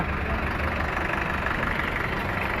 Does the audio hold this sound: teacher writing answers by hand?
no